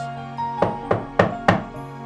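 Four evenly spaced knocks on a door, close and distinct, over a soft steady musical background with no voices.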